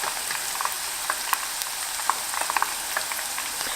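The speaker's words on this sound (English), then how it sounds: "As our Brussels sprouts are frying," Brussels sprouts deep frying in a pot of hot oil, a steady bright sizzle with crackling pops and spits scattered throughout, close and fairly loud, no voices.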